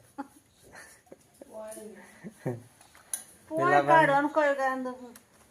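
Utensils and dishes clink and clatter in a few scattered, fairly close knocks while people talk loudly over them.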